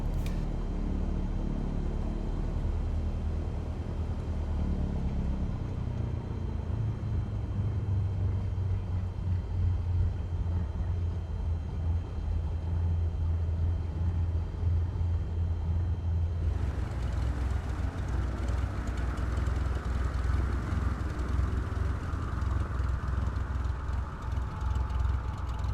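A Beechcraft Bonanza departs in Microsoft Flight Simulator 2020, a steady low engine rumble droning on for the whole stretch and swelling brighter and louder partway through as it powers away; no voices.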